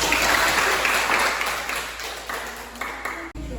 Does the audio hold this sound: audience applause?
yes